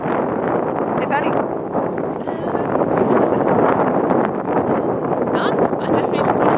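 Gusty wind buffets the microphone outdoors on a sunny day in Dresden, a loud, rough rumble that runs throughout beneath a person talking.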